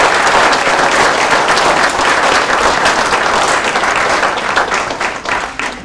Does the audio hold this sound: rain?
no